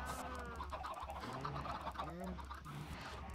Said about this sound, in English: And chickens everywhere.